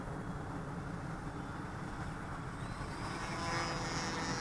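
An FMS Falcon RC model airplane's electric motor runs at steady throttle on the bench, a constant close whirring drone that rises slightly in pitch toward the end.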